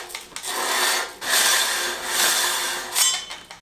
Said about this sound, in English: once you're done sanding down your rotor